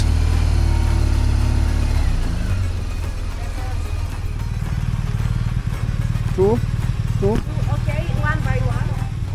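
A motorcycle rumbles steadily across a toll bridge over the Corinth Canal in Greece, its engine a constant close drone with road and wind noise, while a few brief squeaky chirps sound faintly over it later on.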